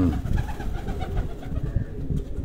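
Chinese-breed pigeons cooing steadily in low, throaty murmurs, several birds overlapping close by with a soft rustling background.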